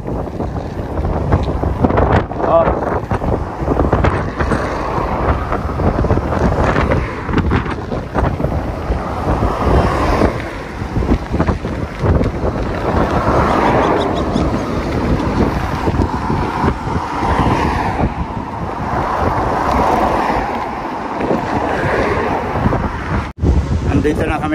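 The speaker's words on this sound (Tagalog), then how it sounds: "Lakas ng hangin." Strong outdoor wind buffets the microphone in a continuous rough roar near the sea, with brief voices now and then.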